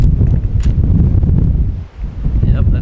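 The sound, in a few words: wind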